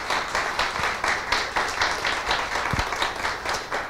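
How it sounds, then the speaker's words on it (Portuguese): An audience at a talk on menopause applauds, a steady wash of many hands clapping throughout with no pause. "Uma salva de palmas, por favor."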